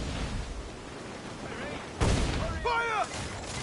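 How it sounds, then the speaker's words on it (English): A ship's cannon volley in the pirate naval combat of Assassin's Creed Black Flag: a heavy boom strikes partway through over constant sea-battle noise, followed by a second rumbling blast, with shouted voices between them. "They're firing a volley!"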